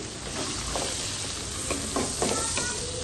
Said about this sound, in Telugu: ఇది కొంచెం వేడవగానే కడిగి పెట్టుకున్న కొత్తిమీర వేసాను